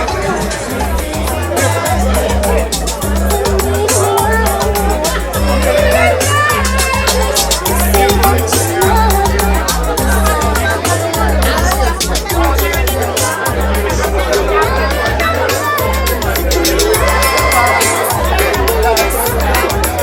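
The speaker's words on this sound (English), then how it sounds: "The crowd." A crowd chatters at an outdoor lounge while a DJ plays, the babble of many voices layered over a steady, loud, thumping beat for the whole stretch.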